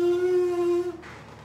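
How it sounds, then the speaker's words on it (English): A close, steady lip buzz made by forcing air through tightly pressed lips, held at one pitch for just under a second before cutting off abruptly. "Put your lips together real tight, and then you force air through them and make a buzz."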